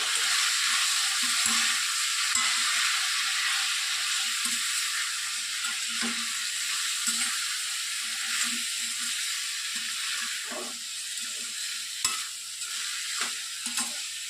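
Ivy gourd pieces fry gently over a low flame, a soft steady sizzle running throughout with faint intermittent stirring taps and scrapes.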